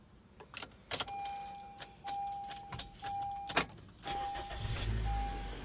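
Keys jingle and click as a key turns in the ignition of a Honda CR-V, with several sharp metallic clicks and rattles, a steady dashboard chime tone, then a soft low rumble near the end; close and fairly quiet.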